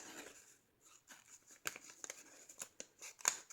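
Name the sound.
cutting paper calendar with scissors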